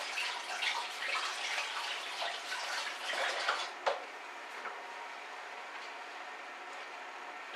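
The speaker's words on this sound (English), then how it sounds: "I'm going to very quickly wash my hands." Hands are washed under a running kitchen tap, a splashing, uneven rush of water for several seconds that drops to a faint trickle and near quiet partway through.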